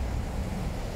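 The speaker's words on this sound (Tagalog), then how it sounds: "Malakas yung hangin kaya dinadala dito yung tubig" Strong wind drives water across a wet roadway, producing a steady, dense rushing roar with no pauses or voices.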